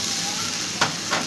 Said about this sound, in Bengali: মিডিয়াম সাইজের টমেটো পেস্ট, যেটাকে আমি কষিয়ে নেব।